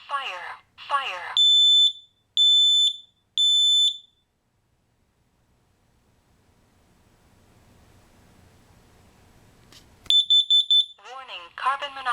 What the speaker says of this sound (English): this is the Kidde smoke and carbon monoxide alarm